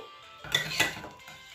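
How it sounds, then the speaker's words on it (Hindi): Ground cashews and raisins are moved onto a plate: a couple of soft clinks and scrapes of a spoon against a dish, short and fairly quiet. "तो अब मैं इसे प्लेट में निकाल लेती हूँ।"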